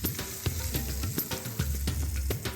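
A hot tempering of mustard seeds, curry leaves and asafoetida sizzles as it hits coconut coriander chutney, a loud close crackle with sharp pops scattered throughout, continuous over a low bubbling hiss.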